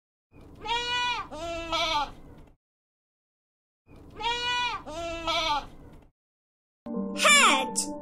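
A goat bleats twice in wavering, nasal cries, each about two seconds long, followed by a sharper, higher squeal at the end, close and clear against silence.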